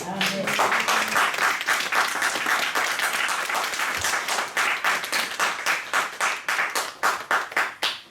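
Congregation clapping in applause during a church service, a dense, steady wash of many hands that thins toward the end into more distinct, separated claps.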